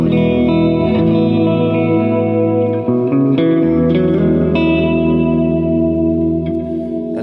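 An electric guitar played through a Sluckey Deluxe Reverb Lite amp with modifications, its built-in reverb turned up so sustained chords ring out lush and loud, smeared into a long wash of echo.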